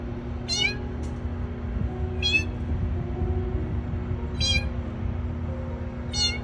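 A small calico community cat in a business area meows four times at even intervals, each cry clear and fairly close over a steady low hum of background noise.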